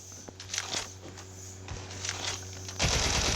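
Gunfire in the Call of Duty Mobile video game: scattered short bursts and single shots at moderate level, ending in a louder sustained volley, with faint voices in the background.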